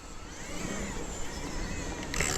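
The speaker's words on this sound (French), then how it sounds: "Ben, t'entends pas les voitures?" Cars pass on a nearby road, a continuous broadband traffic rush at moderate level with one vehicle swelling louder toward the end.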